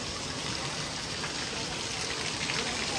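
Heavy rain pouring outside a village shop, a constant dense hiss of falling water with no break, alone and without talk.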